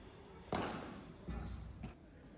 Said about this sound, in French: Cette volée qui part dans la vitre.